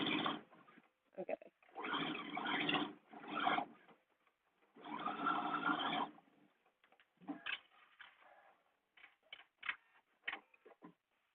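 Sewing machine running a basting stitch on a blouse, in several bursts of fast whirring needle chatter separated by pauses, ending in shorter stop-start runs.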